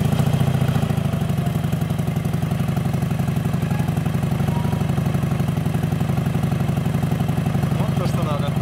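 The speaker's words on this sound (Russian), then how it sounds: "И сейчас заведем двигатель." A Harley-Davidson motorcycle engine idles with a steady, loud, rhythmic mechanical pulsing and clatter, running continuously at close range while people talk nearby.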